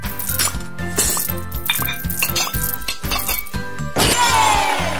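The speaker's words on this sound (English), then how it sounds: "Dishes are clean. Put them back in their places." Clean dishes clinking as they are put back in place in a children's kitchen cleanup video game, a rapid run of bright clattering chinks over steady background music, ending in a denser shimmering clatter.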